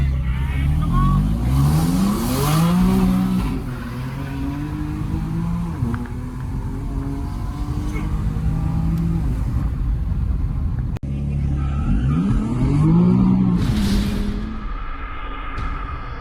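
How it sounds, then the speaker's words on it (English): A BMW M4 launching at a drag strip, engine revving hard and loud with harmonic sweeps rising through first gear as the tires spin without grip, then a second rising run near the end; voices sound faintly beneath. "when we tried to launch the M4, we did not hook at all. Gear 1 was spinning."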